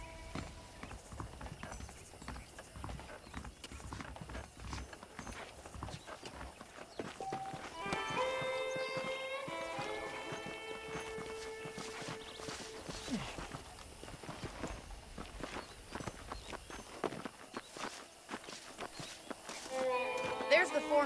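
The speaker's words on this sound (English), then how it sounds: "The horses are saddled up over here." Horse hooves clip-clop in a steady walking rhythm in the video game Red Dead Redemption, with someone talking over them and brief musical tones partway through.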